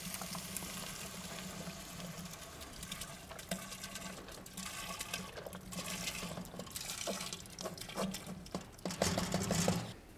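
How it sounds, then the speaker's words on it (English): Chicken stock pours into a Cancooker pot for fish stew, a steady liquid splashing and gurgling that swells louder toward the end, heard up close and alone. "I'm going to put a little chicken stock in there."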